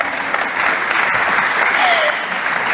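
Audience at a tribute ceremony in the Dominican Republic honoring Juan Luis Guerra, applauding in a dense, steady wash of clapping that stays loud and even throughout, close and uninterrupted.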